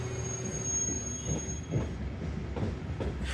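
A Siemens EuroSprinter Class 19 locomotive of Belgian railways SNCB rolls past on a Brussels airport service, with rumbling wheels, faint rhythmic clacks and a thin high squeal at moderate distance.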